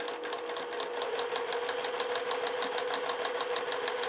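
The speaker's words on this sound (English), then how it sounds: "Put my presser foot down and stitch one hair to the right of that line" A sewing machine stitches fabric in a fast, even run of needle strokes, close and steady throughout.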